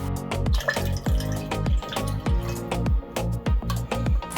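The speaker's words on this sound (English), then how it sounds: "Then we're going to add the food coloring and vinegar to the glass." Liquid, food coloring and vinegar, poured into a glass for a homemade lava lamp gives a steady run of repeated drips and splashes, fairly close and clear with no talking.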